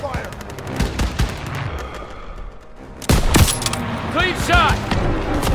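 Covering gunfire in the Call of Duty WWII video game: dense bursts of rifle and machine-gun fire crackle throughout, growing louder and heavier after a brief lull, with battlefield voices shouting over the shooting.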